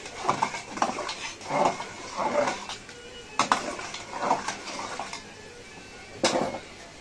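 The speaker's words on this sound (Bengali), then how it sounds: "এখন ভালো করে নেড়ে চেড়ে দেব" A spoon stirs duck biryani rice in hot water in a pot, giving repeated close clinks and scrapes against the metal in irregular bursts, with soft watery swishes between them.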